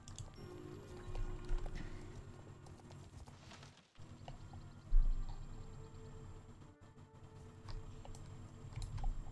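Horse hooves clip-clopping in the video game Star Stable Online, a steady rhythm of quiet hoofbeats with occasional keyboard taps and game sounds, fairly faint throughout.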